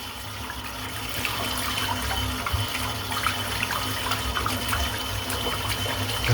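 A shaving brush is rinsed under a running tap in a sink, a steady close splashing flow with small bursts as the brush moves through the stream, no speech.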